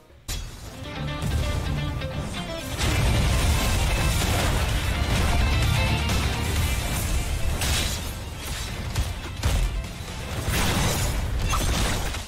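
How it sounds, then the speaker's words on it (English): A character's ultimate move in the Strongest Battlegrounds video game plays with added music: a steady musical bed runs under repeated crashing, shattering and bursting impact effects that stay loud and dense throughout, with no voices. "They also added music to his ultimate, so now it sounds like this."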